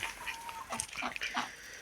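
A black hen clucks in a quick run of short, soft calls, close by and fairly faint, with a little farmyard background.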